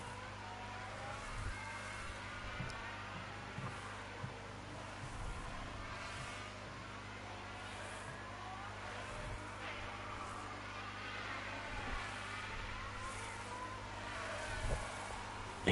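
Formula 1 cars racing in F1 Manager 22, a faint steady engine drone with brief whines of cars passing and occasional tyre squeals, distant and continuous under a quiet game mix.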